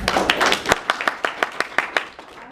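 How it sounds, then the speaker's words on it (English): Applause from a small crowd, starting as a dense burst of clapping and thinning out to scattered individual claps. "go ahead and give yourselves a round of applause"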